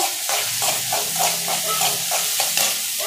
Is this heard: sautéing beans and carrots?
yes